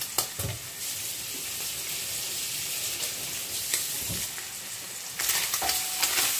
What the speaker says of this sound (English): Make sure you stir your pancetta or guanciale constantly so it doesn't get burned.